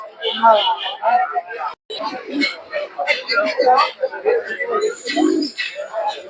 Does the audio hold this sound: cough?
no